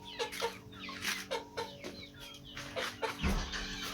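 Chickens at a rural house cluck in quick, repeated bursts close by, several birds overlapping in an uneven rhythm, with a dull thump near the end.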